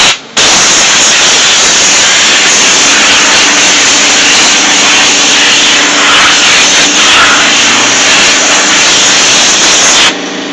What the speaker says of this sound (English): we're gonna blow the radiator, and from the radiator right here, it's really dirty